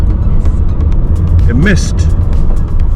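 Steady low road rumble and engine hum fill a car cabin while driving on a gray, misty day among mountains, with a person speaking briefly over the constant drone.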